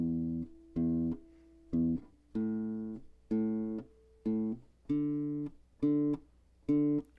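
Rhythmic open-voiced guitar chords on the bass layer of a song's chorus, nine or ten separate strums in a steady pattern of short and held hits, played alone and clearly.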